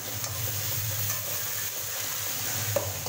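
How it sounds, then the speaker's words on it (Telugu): Tempering for puffed rice upma fries in a pan with a soft, steady sizzle close up, broken by occasional scrapes and clicks of stirring. "చక్కగా చాలా చక్కగా అన్ని ఫ్రై అయిపోయాయి."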